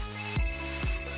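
Incoming call ringing through the Chevrolet MyLink system in a 2017 Colorado, a repeating electronic ringtone with two soft thuds marking its cycles, clear and close over a steady tone.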